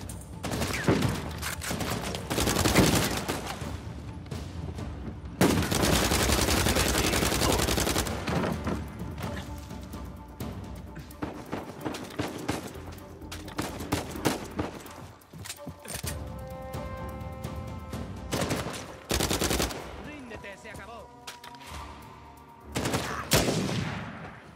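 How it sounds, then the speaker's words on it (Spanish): Heavy shotgun blasts and bursts of gunfire in the video game Uncharted 4, loud and close, with dense volleys giving way to scattered single booming shots and short pauses between. "¡Escopeta, escopeta!"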